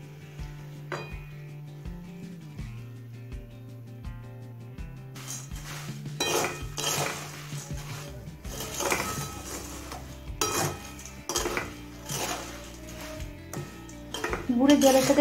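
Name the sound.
mixing puffed rice with jaggery water in a pot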